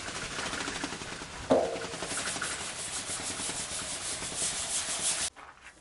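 Car body repair panel sanded by hand with 400-grit sandpaper, a close, rapid back-and-forth scraping that goes on for about five seconds, with one sharp knock early on, then stops abruptly.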